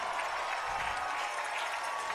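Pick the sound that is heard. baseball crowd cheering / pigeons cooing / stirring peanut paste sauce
baseball crowd cheering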